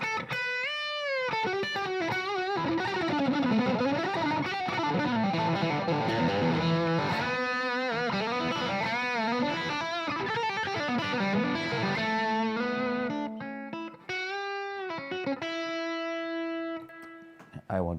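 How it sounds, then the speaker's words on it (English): Electric guitar notes are played through a slightly gritty transistor amplifier: a busy run of distorted tones, then a few sustained single notes ringing out. "I play a few notes with the transistor amp"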